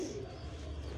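A pet pigeon coos in a soft, low rolling call that runs steadily through the short moment, close by and alone with no talk.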